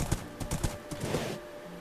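A horse trots in the Minecraft video game, a quick series of clip-clop hoofbeats at close range that fade out near the end.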